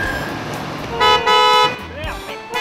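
Car horn honking in street traffic, several short loud toots over a busy roadway din with a voice talking across it.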